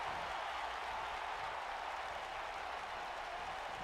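A dense, steady crowd roar from an arena crowd in Chicago in an AEW wrestling video game on PS4, continuous and even with no breaks or announcer speech.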